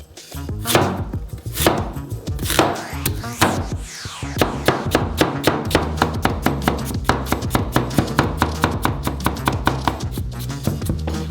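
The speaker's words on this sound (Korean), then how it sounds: "사과 하나가 필요해요. 망고와 같이 썰어주세요." An apple and mango are chopped together with a knife on a cutting board. A few scattered cuts and a scrape open the sequence before it settles into a fast, steady train of sharp, close chops.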